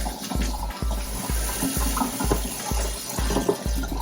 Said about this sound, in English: I'm gonna just rinse the rest of this, rinse out the canister itself